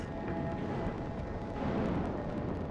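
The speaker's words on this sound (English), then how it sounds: "the first explosions shook the Deepwater horizon" Deep rumbling explosion on the Deepwater Horizon drilling rig in an animated reconstruction, a sustained low roar that swells slightly near the end with no distinct sharp blasts.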